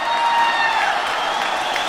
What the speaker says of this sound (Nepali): एकचोटि पार्टी सभापतिज्यू र वरिष्ठ नेता एवं प्रधानमन्त्रीज्यूलाई जोरदार तालीका साथ स्वागत